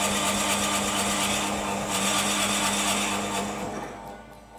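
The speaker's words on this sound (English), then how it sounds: "Turning it at 250 RPM. I don't like to turn it too fast, there's no reason to overheat the bit." A wood lathe spins a maple vessel at a slow 250 RPM while a skew chisel works it, giving a steady whirring hum with a faint tonal drone that fades near the end.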